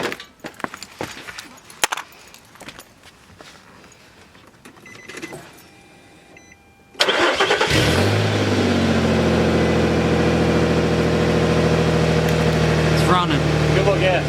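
A car engine cranks and catches, then settles into a loud, steady idle that runs on without a break. Clattering workshop noise and voices come just before it starts.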